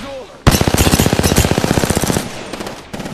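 Gunfire in the video game Apex Legends: a sudden loud burst of rapid automatic fire that rattles on for about two seconds, followed by a few scattered shots.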